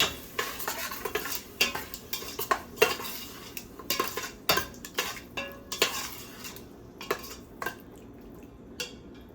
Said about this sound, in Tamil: தயிரையும் சேர்த்துட்டு நல்லா கலந்து விட்டுடலாங்க